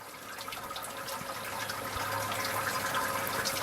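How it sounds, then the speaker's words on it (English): Sparge water for an English IPA homebrew runs steadily through the grain mash, a continuous close watery rush and trickle that grows slightly fuller over a few seconds, with no talk. "I like to leave the top plate on when I do my sparge because it disperses the water"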